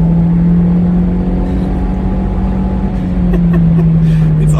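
A Honda CR-Z hybrid accelerates in S Plus mode, a loud steady engine drone and road rumble heard from inside the cabin, holding a constant tone as it pulls away.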